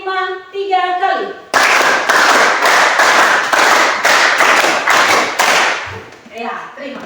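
A group of students claps a rapid five-beat pattern three times in a classroom, loud and close with crisp repeated bursts, after a brief stretch of talking.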